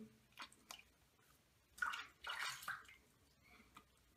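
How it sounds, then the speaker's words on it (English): Water splashes and swishes as a face is rinsed between wet shaving passes, a few short bursts of splashing at close range, faint overall, with quiet gaps between and no speech. "before each pass, make sure that you rinse off your face"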